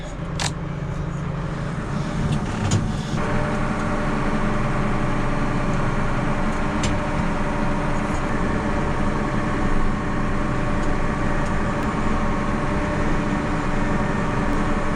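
A tractor engine idles indoors in a farm shed, holding a steady, loud, low rumble for the whole stretch with no speech over it.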